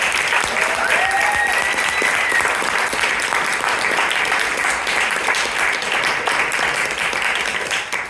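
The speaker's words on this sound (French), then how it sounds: "Merci, on peut les applaudir" Loud, sustained audience applause fills an improv comedy show, a dense wash of clapping with a few whistles and cheers, steady throughout before tapering slightly at the end.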